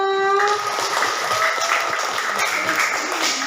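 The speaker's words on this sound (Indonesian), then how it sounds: "Tepuk tangan buat kita semua." Applause from a group at a teacher coaching session, steady close clapping from many hands lasting the whole moment, starting over a brief sustained tone and continuing alone at even loudness.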